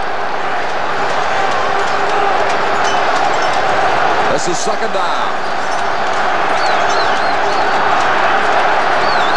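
Loud, steady roar of a large stadium crowd at a Grey Cup Canadian football game against the Edmonton Eskimos, a continuous wash of noise filling the whole clip beneath a commentator's voice.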